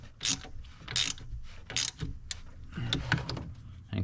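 A ratchet cranks down a Yukon tail light part: a few quick bursts of clicking pawl close by, separated by short pauses.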